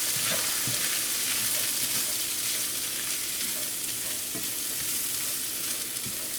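Cabbage mixture and raccoon meat fry for egg rolls in a hot pan, a steady close sizzle with occasional stirring scrapes running throughout.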